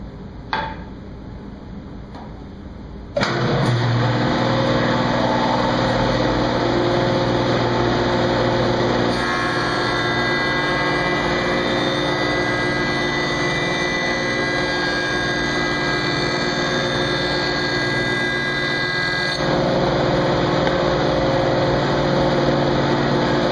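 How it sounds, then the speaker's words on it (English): A woodworking jointer starts up and runs with a loud, steady high-pitched whine as cherry leg stock is fed across the cutterhead, the cutting tone shifting slightly during passes. "I'm going to put that up against the fence of my joiner, run them through so I can get a nice perpendicular edge"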